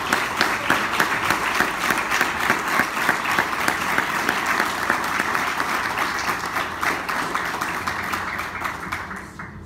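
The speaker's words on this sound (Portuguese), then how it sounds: "Você pode aplaudir o Senhor por causa disso?" Congregation in a Portuguese-language church service claps loudly and steadily for nearly ten seconds, a dense crackle of many hands with some rhythmic pulsing before it thins and fades out at the end.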